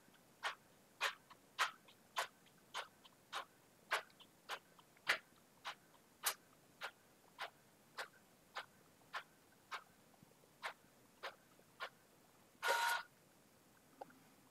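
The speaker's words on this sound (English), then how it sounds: "So now it is sending everything to my printer, which you may hear in the background." Evenly spaced mechanical clicks repeat about twice a second, faint and steady, ending with a short whirring burst.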